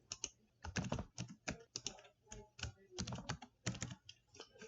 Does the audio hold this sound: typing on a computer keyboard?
yes